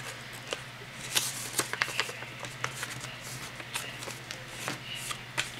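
Paper is creased and folded into a paper X-Wing fighter: close crisp rustles and sharp crackles come in quick, irregular bursts, with no voices.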